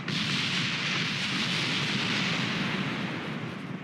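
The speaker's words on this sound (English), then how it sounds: "I think it exploded" A rocket blows up in Kerbal Space Program, a dense, roaring blast of broadband noise that holds steady for several seconds before easing off slightly, with no voices over it.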